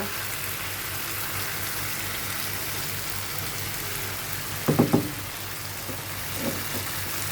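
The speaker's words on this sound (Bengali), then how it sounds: "মাছটা দিয়ে একটু নাড়াচাড়া করব কিছুক্ষণ মশলার সঙ্গে একটু কষিয়ে নেব" Fish fries with spices in a pan, a soft, even sizzling hiss under a few quick metallic clinks of stirring midway and again near the end.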